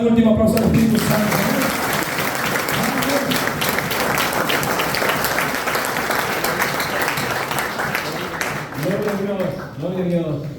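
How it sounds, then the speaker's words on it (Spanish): A church congregation at a Spanish-language conference bursts into sustained applause, loud and dense throughout, while voices shout and speak over the clapping near the start and toward the end. "Dale un último aplauso al Espíritu Santo."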